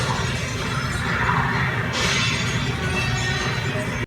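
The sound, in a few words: vase shattering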